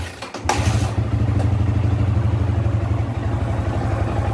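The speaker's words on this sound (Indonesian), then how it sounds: "Saya engkol saja." A Yamaha Vixion motorcycle engine catches after a kick start and settles into a loud, steady, close idle with a rapid even chug, with no voices.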